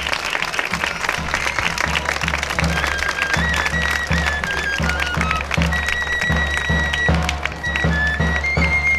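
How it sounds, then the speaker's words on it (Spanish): Loud, sustained crowd applause at a flower offering to Our Lady of Hope during the La Redondela pilgrimage festival, with steady rhythmic low thumps running beneath the clapping throughout. "Démosle un fuerte aplauso y recibámonos como se merece."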